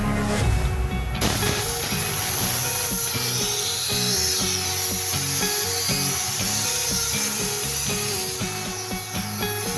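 Steady rhythmic rubbing of 100-grit sandpaper leveling a repaired dent on a panel before epoxy primer, back-and-forth scraping strokes repeating close by without talk.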